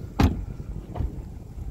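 Hands-free kick-activated trunk lid of a 2020 BMW M850i Gran Coupe closing: a sharp close-up latch thunk followed by a softer mechanical clunk under a second later, with no talking.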